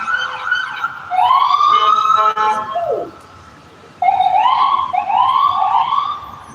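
An ambulance siren on a Philadelphia street wails loudly nearby, rising and falling in long sweeps, briefly dropping away before resuming with quicker yelps.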